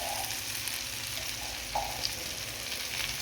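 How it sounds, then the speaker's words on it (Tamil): A handful of mint leaves sauté on low heat in a pan for chutney, giving a steady soft sizzle with faint scrapes of stirring and no talking. "புதினா நல்லா சுருண்டு வர வரைக்கும் இன்னும் கொஞ்சம் நேரம் வதக்கணும்"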